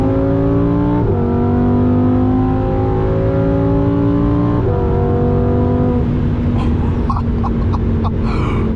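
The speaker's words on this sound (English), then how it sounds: "The exhaust sound is the best." A 2024 Lamborghini Huracán Sterrato's V10 roars loud and close while accelerating on the Autobahn, rising through two gear changes, then easing off with crackling pops from the exhaust.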